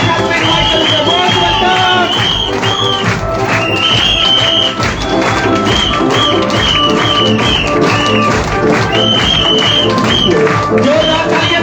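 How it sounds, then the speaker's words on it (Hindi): At a DXN program event in Dostpur, a loud crowd applauds and cheers continuously over blaring music, forming a dense, unbroken wall of sound. "जोरदार तालियों के साथ"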